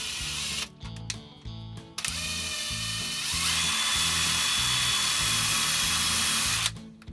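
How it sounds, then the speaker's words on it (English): A power drill bores a hole through a cork, its motor whirring in short on-off bursts before running in one steady, close, high-pitched grind that cuts off at the end. "take the cork and then your drill, put a hole right in the middle of the cork"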